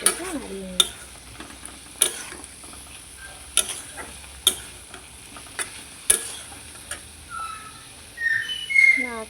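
Potatoes are stirred into egg curry masala in a pan, giving a low background sizzle with sharp, regularly spaced scrapes and knocks of a spoon against the pan, plus a faint whistling tone near the end.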